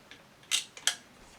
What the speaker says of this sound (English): Shutter's good.